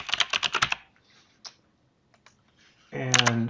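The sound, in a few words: typing a repository name on a computer keyboard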